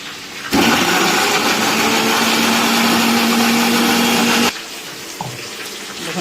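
A kitchen grinder purees chopped tomatoes into paste with a loud, steady whirring drone that runs for about four seconds, then cuts off abruptly into quiet room noise.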